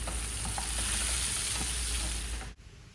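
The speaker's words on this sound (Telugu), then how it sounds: "ఉల్లిపాయను కట్ చేసుకొని దాన్ని కూడా కొంచెం పచ్చివాసన వెళ్ళేట్టుగా మనం దాన్ని కొంచెం ఫ్రై చేసుకుందాం" Onion fries in hot oil for a Telangana-style tamarind chutney, a dense, loud, steady sizzle close by that cuts off abruptly near the end.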